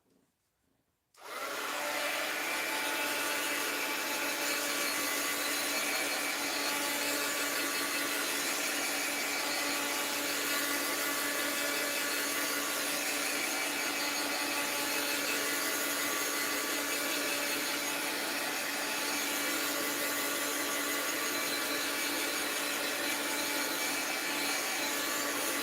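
A heat tool blows steadily while drying a mixed-media art journal cover, a loud continuous broadband whoosh that switches on after a second of quiet and runs unbroken to the end.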